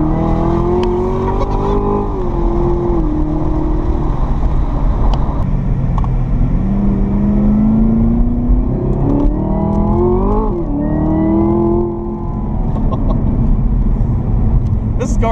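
A 675 hp ZL1 with an automatic transmission accelerates hard on a road, its engine note rising and dropping through gear shifts in a steady, loud roar heard from inside the car, with occupants talking over it.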